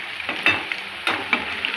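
Cauliflower gobi frying in a pan and being flipped, a steady loud sizzle with a few soft scraping, stirring knocks as the pieces are turned, no talking.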